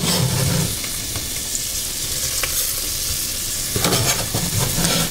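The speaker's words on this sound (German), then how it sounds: "Und das Ganze werden wir dann noch mal kurz anbraten." Steady sizzling of vegetables frying in a pot for lasagne, with occasional stirring scrapes and clinks, loud and continuous throughout.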